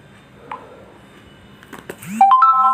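A WhatsApp message notification chimes on an Android phone, a short bright tonal alert near the end that rings out clearly after quieter handling noises.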